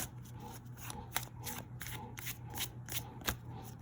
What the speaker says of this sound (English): no matter how much I shuffle